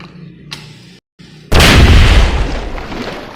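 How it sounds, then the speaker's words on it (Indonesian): Soft rustling noise with a brief gap, then a sudden loud explosive bang from a hydrogen and oxygen gas reaction that rumbles and slowly fades. "Terjadi ledakan lagi, itu eksoterm yang lebih besar."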